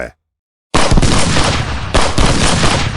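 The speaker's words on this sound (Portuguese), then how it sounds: "Tiros na noite." A sudden burst of loud gunfire after a brief silence, a rapid volley of shots followed by a second cluster, harsh and close.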